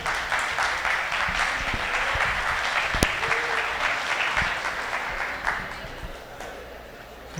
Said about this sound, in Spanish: Ese aplauso para recibirle.